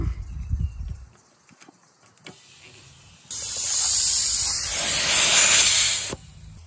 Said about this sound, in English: I can just turn that on and off to deflate my tyres